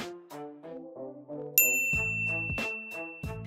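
A bright notification bell dings once, loud and ringing on over a soft musical background.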